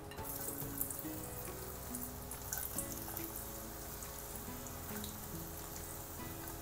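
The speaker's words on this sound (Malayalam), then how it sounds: "കപ്പലണ്ടി കുറേച്ചയായിട്ടെടുത്ത് വറുത്തെടുക്കാം" Peanuts frying in a pan give a faint, continuous crackle and sizzle, with scattered tiny pops, heard quietly beneath soft background tones.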